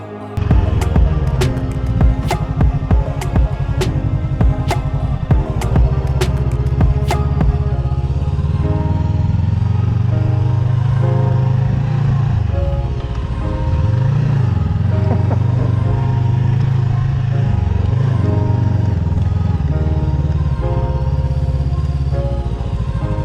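A motorcycle rides through Berlin city streets with a steady, loud engine drone and a throbbing hum that shifts in pitch, and a quick run of sharp clicks at the start.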